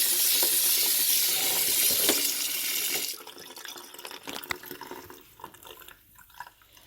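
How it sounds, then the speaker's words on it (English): Running tap water pours into a bowl of rice being rinsed, a loud steady splashing rush that cuts off after about three seconds, followed by quieter trickles, clinks and drips in the bowl. "I go ahead and rinse it some more."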